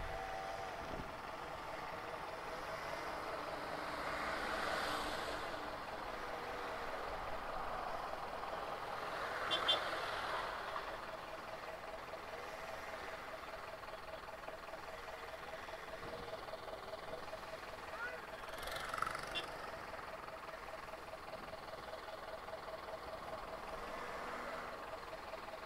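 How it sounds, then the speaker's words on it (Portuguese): Road traffic in front of a wholesale store: a continuous low rumble of engines and passing vehicles, with a couple of louder swells as nearer vehicles go by and faint voices in the background. "Pensa num trânsito que eu vou pegar pra Ilhéus agora"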